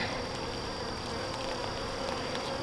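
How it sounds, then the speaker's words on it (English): A dense, steady buzz of many bees, close and continuous, with no voices over it. "Gonna have a lot more bees in this hive."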